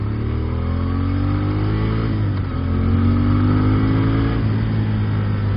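A 2016 Moto Guzzi Griso motorcycle pulls hard under acceleration, its loud engine drone climbing steadily in pitch, easing briefly as it shifts, then rising again.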